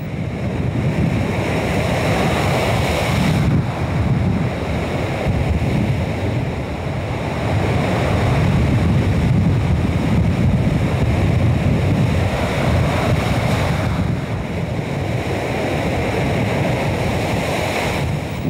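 Huge waves of the Bay of Bengal pound the shore at Cox's Bazar during the monsoon, a continuous heavy roar of surf mixed with strong gusting wind buffeting the microphone, steady and loud throughout.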